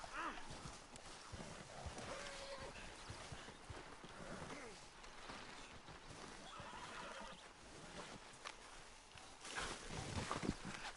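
Horse hooves clip-clopping along in Red Dead Redemption 2, with neighs and whinnies and water or surf sounds around, someone talking over much of it and a louder burst of hoofbeats near the end.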